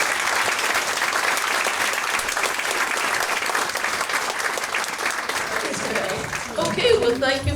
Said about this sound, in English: Let's all give Dr. Kwaiko a big round of applause.